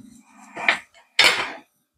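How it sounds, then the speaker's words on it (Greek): A spoon scrapes pits out of cut plums with two short metallic scraping clinks close up, separated by a brief pause, and no one speaks. "Και με ένα κουτάλι αφαιρούμε το κουκούτσι."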